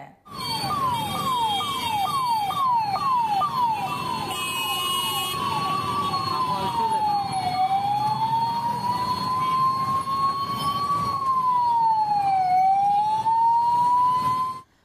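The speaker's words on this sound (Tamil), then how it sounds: "கொரோனா நோயாளிகளை ஏற்றி வந்த ஆம்புலன்ஸ்கள் நெரிசலில் சிக்கி தவித்தன" An ambulance carrying Covid-19 patients is stuck in a road traffic jam, its siren loud and continuous, first a rapid yelp and then a slower rising and falling wail over steady traffic rumble, with no talking.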